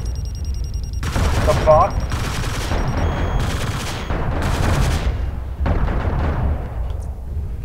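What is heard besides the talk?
PPC weapon fire in MechWarrior Living Legends video game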